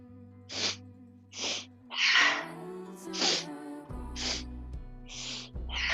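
Breath of joy breathing exercise: sets of three short, sharp inhaled sips followed by a fuller exhale, repeated as close, distinct breathy bursts over a soft sustained tone, with no talking.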